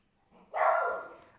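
A single dog's bark rings out loud and close, one short burst that rises sharply and then tapers off, heard alone with no talking.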